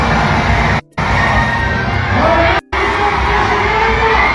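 Large crowd at a political rally cheering and shouting, a dense, loud continuous roar with whoops and high voices, briefly cut by two abrupt gaps.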